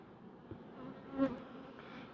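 Honeybees buzz at a beehive, a faint steady hum with one slightly louder pass near the middle.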